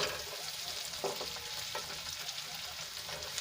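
Tomatoes frying in a pan as a topping for pizza made without an oven: a loud, steady sizzle with faint stirring scrapes and no talking.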